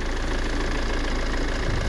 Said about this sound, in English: that's actually now the pump winding itself up